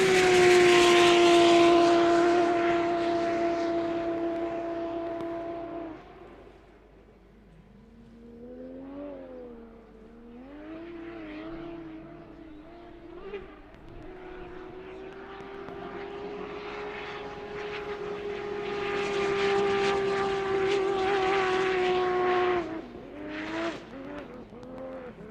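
A 2JZ Toyota Lexus engine powers the racing boat Ravage at a powerboat race, droning loudly with steady harmonic tones, dipping and wavering mid-pass, then swelling again before its pitch shifts sharply near the end, with no talk over it.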